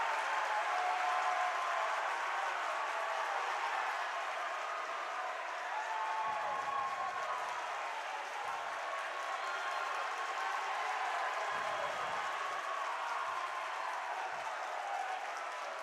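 Basketball fans at a boys high school game, Layton visiting Davis, clap and cheer in a steady, distant wash of applause that holds for about sixteen seconds.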